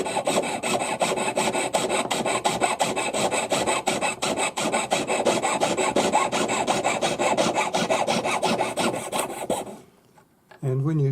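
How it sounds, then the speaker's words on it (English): A jeweler's hand saw cutting through the solder joint of a forged opal ring held sideways, giving a steady, continuous rasping stroke pattern that runs unbroken for about ten seconds and then stops abruptly. "Hold the ring sideways, and we're going to saw exactly on the solder joint."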